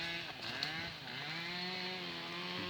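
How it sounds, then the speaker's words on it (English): Chainsaws whine and rev across a neighbouring olive field on Rhodes, several engines overlapping in a steady, somewhat distant drone with shifting pitch. "You can hear the chainsaws going across at the other field."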